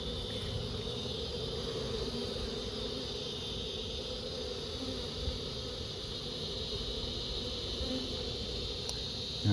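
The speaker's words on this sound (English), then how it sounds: "I see a couple bees flying around" Bees buzz around a hive lodged in brickwork during a removal, a faint, continuous low drone with a steady background hum, no voices and only slight swells in level.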